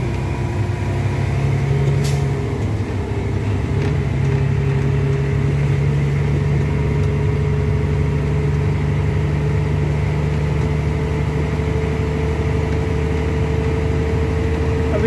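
Kenworth C500 truck engine heard from inside the cab, a loud, steady diesel drone with a deep rumble and sustained tones, holding at high throttle without clear rises or drops.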